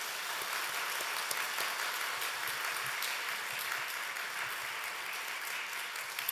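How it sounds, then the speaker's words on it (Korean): Church congregation applauding together in a large hall, a dense, steady wash of many hands clapping that holds evenly for several seconds at moderate distance. "우리 정말 감사하는 마음으로 격려하는 마음으로 다시 한번 크게 박수하시겠습니다."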